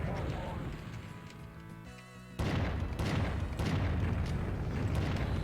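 Booming explosions in a Doom megawad, custom sounds resembling Duke Nukem 3D blasts, sound as dense rumbling bursts, building to a loud continuous barrage of blasts with someone talking over the game audio.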